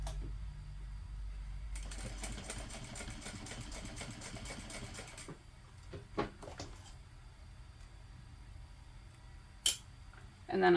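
A sewing machine runs a steady top stitch with a long stitch length down a tote bag connector, a fast, even mechanical whir for about three seconds, followed by quieter clicks and handling.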